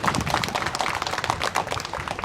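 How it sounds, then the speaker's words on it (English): An audience applauds Green Party leader Naomi Hunter as she is welcomed onto the stage at a Solidarity for Palestine rally, with steady, fairly close clapping throughout. "Please give her a big round of applause."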